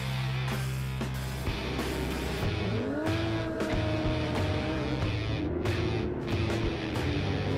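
Race cars rev and roar off the line together at the start of a Donington Park race, a loud continuous engine din with rising pitch as they accelerate away.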